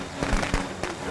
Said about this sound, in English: I put down firecrackers!